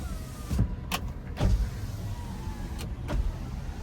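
Power windows of a 2023 Maruti Wagon R VXI petrol and CNG car whir up and down in a few short bursts, close and clear, with quiet cabin hum between them.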